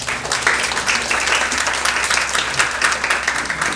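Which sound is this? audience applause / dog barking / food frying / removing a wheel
audience applause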